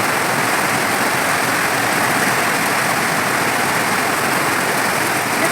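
Heavy rain pours down outdoors beside a pond during a storm, a dense, unbroken hiss and roar that stays loud and steady throughout, with no voices.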